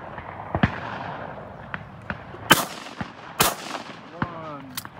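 Sharp shotgun blasts at a FITASC sporting clay shoot ring out at irregular intervals, some loud and close, others fainter and more distant, over soft outdoor background noise.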